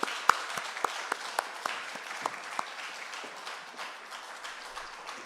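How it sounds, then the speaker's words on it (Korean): Church congregation applauding during a Sunday worship service, a steady wash of clapping in a reverberant hall with a few sharp individual claps standing out, moderately quiet and sustained throughout. "우리 다 같이 박수로서 하나님께 영광 올립니다"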